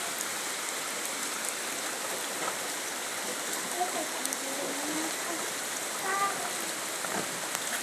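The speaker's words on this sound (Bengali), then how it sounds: "অনেকদিন পরে বৃষ্টিটা হয়েছে, ঝিরঝির করছে বৃষ্টি।" Light drizzling rain falls steadily in an outdoor garden setting by a flowering jujube tree in Jhenaidah, a soft, even hiss with faint scattered drops throughout.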